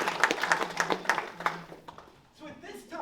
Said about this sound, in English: if we could give Donnie a round of applause